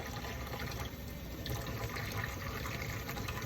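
Water runs steadily from a tap in a workroom, fetched for smoothing plaster casts; a continuous hiss and splash of moderate loudness with a brief dip near the one-second mark and no talking.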